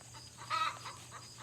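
Chickens on a small farm cluck faintly in the background, soft intermittent calls over a low steady hum, with no one speaking.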